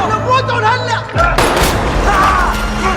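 Loud booming gunfire bursts in mid-clip, a heavy thud followed by sustained crackling blasts, with shouting voices and music underneath.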